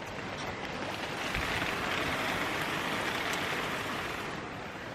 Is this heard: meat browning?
no